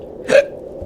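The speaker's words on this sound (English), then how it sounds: "Now I got the hiccups." A single sharp, close hiccup from a person, brief and alone against a quiet background.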